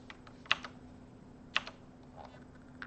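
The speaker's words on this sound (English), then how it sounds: "Pretty sure it's just a mechanical keyboard" Clacky keystrokes on a Razer mechanical keyboard: a few close, sharp click clusters spread across a quiet moment, with a low steady hum underneath.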